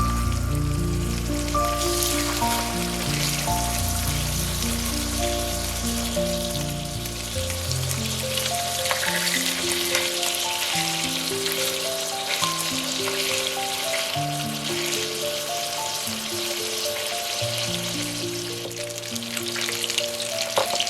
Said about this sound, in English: Place the marinated salmon skin side down into a hot pan.